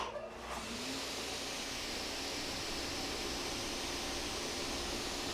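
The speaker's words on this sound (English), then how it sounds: "you should be able to hear the dust collection come on" An automated workshop dust collector, switched to three-phase power, kicks on and runs as a steady, loud broadband rush of air that holds evenly to the end with no voices.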